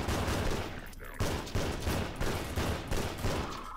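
Weapon fire with heavy recoil in the 2003 build of Half-Life 2, a rapid string of loud, closely spaced shots in several quick bursts.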